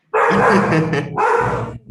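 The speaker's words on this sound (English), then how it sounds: "it's every time someone goes through around my house, he barks every time" A house dog barks loudly and close by in two rapid bursts, each a run of overlapping barks, with a short break between them.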